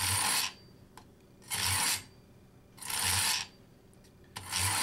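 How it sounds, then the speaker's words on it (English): A knife is pulled back gently through the small wheel of a manual knife sharpener, giving three loud, rasping strokes of under a second each, spaced by short pauses, with a fourth starting at the end. "You just take the knife, hits the small wheel right there, and just pull back gently."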